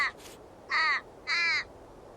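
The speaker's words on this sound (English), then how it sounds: "Australian raven." An Australian raven calls in the Wingspan board game on PC, giving three harsh, drawn-out nasal caws with short gaps between them, clear and close, with no talk.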